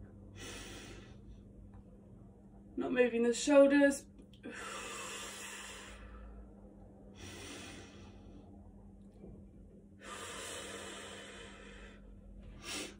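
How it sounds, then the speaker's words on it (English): A diaphragmatic breathing exercise during a vocal warmup: several long, airy breaths in and out, with a brief voiced sound and a short spoken instruction between them. "Let's breathe into our diaphragm."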